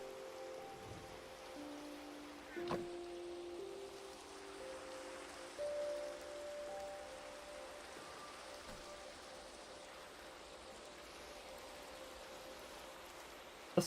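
Steady rain falls in a Minecraft hardcore world at sunrise, a soft continuous patter with a couple of brief louder blips along the way and no talking.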